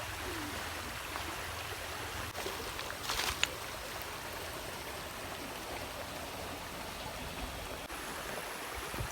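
A river stream rising and turning muddy as the water level increases, giving a steady, broadband rushing flow that fills the whole clip at moderate level, with no talk.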